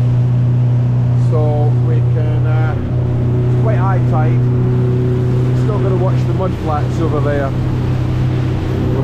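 A motorboat engine drones loudly and steadily up close, with a deep low hum, while a voice talks over it in short bursts.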